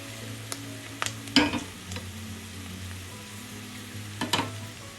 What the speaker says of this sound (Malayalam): ഈ സമയം നമുക്ക് റാഡിഷ് ചേർക്കാം.